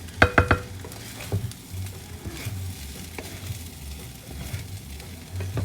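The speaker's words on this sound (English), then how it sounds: "And then mix everything together. Get the tofu to well combine together with the rice." Tofu being stirred and mixed into rice in a pan for vegan fried rice, a steady sizzle and frying hiss with soft scraping strokes, a few sharper knocks near the start, no voices.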